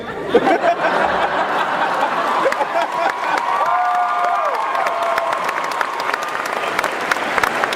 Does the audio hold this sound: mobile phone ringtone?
no